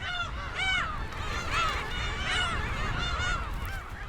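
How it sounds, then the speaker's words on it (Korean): A dense colony of black-tailed gulls nesting in sedge grass on a Korean island gives off a continuous overlapping chorus of mewing, honking calls, many birds near and far at once, with no voices over them. "홍도의 밀사초 수풀에 만여 개의 괭이갈매기 둥지가 빼곡히 들어찼다."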